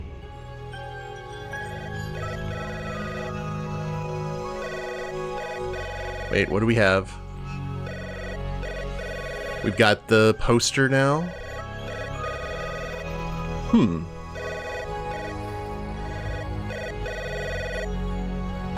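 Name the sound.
intercom ringing in video game Three Minutes To Eight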